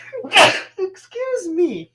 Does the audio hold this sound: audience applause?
no